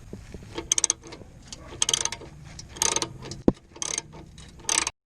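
A ratchet wrench loosens bolts on a Ford F250 fog light bracket, giving short bursts of rapid clicking separated by pauses, with one sharp metallic clank midway, fairly close.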